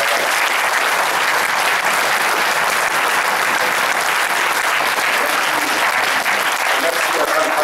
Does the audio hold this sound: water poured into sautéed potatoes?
no